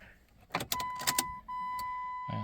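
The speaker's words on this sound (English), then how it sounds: "About to drive it in and they're going to pick it up here." A 1997 Dodge Caravan LE with about 245,000 miles being driven in, heard up close as a few clunks and a door or latch sound, then a steady electronic chime tone and engine hum, with no talk.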